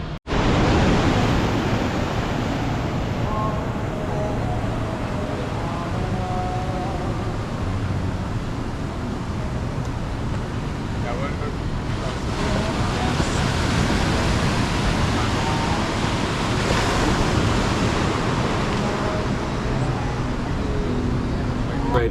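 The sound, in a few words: waves at the beach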